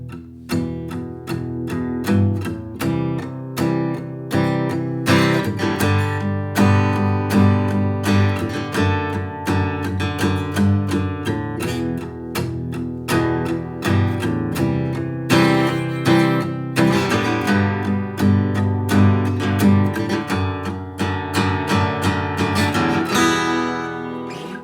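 An acoustic guitar strums a four-chord progression in a steady, full-bodied rhythm, played loud and close for the whole stretch with no voice over it.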